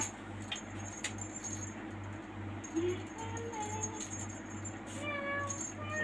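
A house cat meowing while being played with indoors, several short faint meows and a jingling rattle of a toy over a steady background hum.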